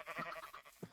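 Sheep bleating in Minecraft, two or three short, quiet bleats in quick succession within a second, with no talk over them.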